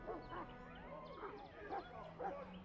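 A Mabari warhound in the Dragon Age: Origins video game gives a run of short whines and yips, several bursts in uneven rhythm over a low steady game background.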